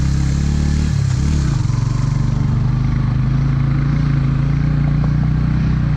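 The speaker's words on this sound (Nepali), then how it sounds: "भक्तजी बाइक ड्राइभ गर्नमा एक्सपर्ट हुनुहुन्छ।" A motorcycle engine drones close by on a dirt road, briefly dipping in pitch before settling into a steady, loud hum as the bike rides on.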